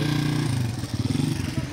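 A motorbike ridden out to get lassi, its engine loud and close with a pulsing throb that shifts pitch as it revs, alone without voices.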